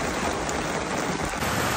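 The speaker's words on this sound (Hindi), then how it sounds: "हे भगवान, हे भगवान, कितनी बारिश आ रही है।" Heavy monsoon rain pouring down in a hill village during a wedding trip, a dense, loud, continuous hiss of downpour hitting surfaces close by, with no voices over it.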